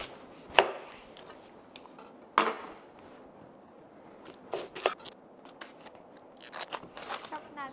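Half an onion being chopped, a few sharp knife strikes followed by scattered irregular cutting and crunching taps, close and fairly quiet.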